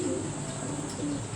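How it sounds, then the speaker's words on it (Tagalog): Racing pigeons coo in a low, steady murmur at a club loft during a summer derby race, the soft throaty calls overlapping continuously against a constant background hiss. "Napakaraming kalapati po ang nakilakaw."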